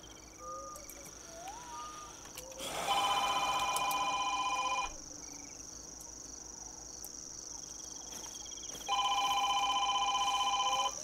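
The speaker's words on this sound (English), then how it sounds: "the phone rings when I'm streaming" A telephone rings during a hunting game session, two long steady electronic rings separated by a pause, sounding over quiet background game ambience with faint chirping insects and birds.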